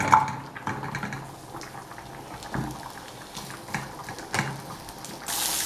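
Calabresa sausage frying in a small amount of oil in a pan: a steady bubbling sizzle with irregular pops and crackles, close and moderately loud, with no talking.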